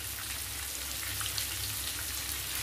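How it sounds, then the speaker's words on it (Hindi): Mutton seekh kebabs fry in a pan, giving a steady, close crackling sizzle with fine popping spatters that holds at an even level throughout, with no voices. "अच्छा फ्राई करेंगे दोनों साइड की।"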